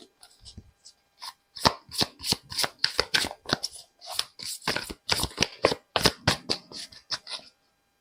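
Tarot cards are shuffled by hand in quick, crisp riffling bursts, close and fairly loud, in a steady run of repeated flicks over several seconds.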